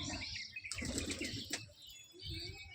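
Pigeons flying overhead before landing, with bursts of flapping wings and faint chirps, fairly distant and soft against outdoor background.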